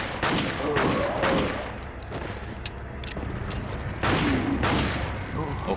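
Handgun shots fired in the video game Resident Evil 4 (Biohazard 4), a few sharp bursts of gunfire spread across a busy, loud game soundscape.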